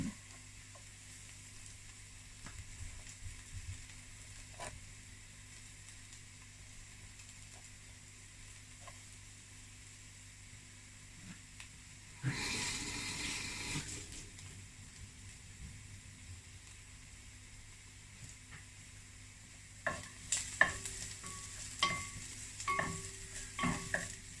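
Garlic fries in a pan for chicken sopas, heard as a faint, low sizzle. A louder burst of frying rises midway, and several scraping stirring strokes follow near the end.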